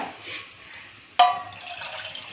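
After a quiet moment, a sudden clunk and then water draining from cooked corn, a steady splashing trickle close by.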